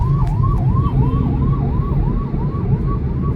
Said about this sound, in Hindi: एम्बुलेंस रास्ता मांग रही थी काफ़ी देर से, शायद कोई इमरजेंसी होगी।